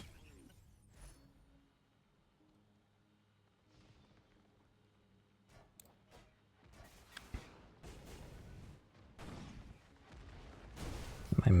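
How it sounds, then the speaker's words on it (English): Video game missiles launch and burst in a rainy match, starting with quiet mechanical clunks, then building into a string of sharp blasts and a loud final explosion, with faint voices in the background. "My missiles missed."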